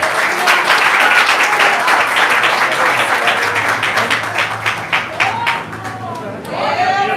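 A church congregation at a worship service breaks into sustained, dense applause that fills the room, clapping loudly and steadily throughout, with voices mixed in and the clapping easing slightly near the end.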